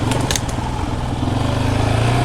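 A 2022 Yamaha Raptor 700R SE ATV engine drones loud and steady while being ridden, a throbbing single-cylinder note that holds without pause.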